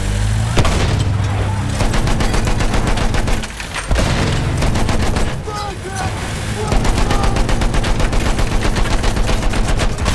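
Gunfire rattles against a tank in a Battlefield 1 match: loud, dense rapid shots and heavy impacts over a constant battlefield rumble, with a short pause midway before the firing resumes.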